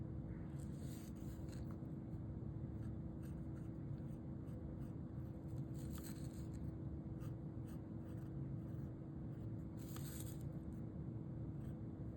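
A fountain pen with a stub nib scratches across watercolor paper in short, faint strokes that come in small bursts over a low steady background hum.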